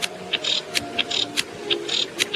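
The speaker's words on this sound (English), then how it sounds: "to sound like a female cicada" Female cicada call: a series of short, sharp clicking bursts with brief buzzy flutters between them, repeating every half second or so over a faint steady background hum, with no one talking.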